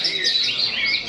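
A songbird at a bird-singing contest pours out rapid, high chirps and trills in a dense, continuous stream, loud and close, with faint crowd murmur beneath.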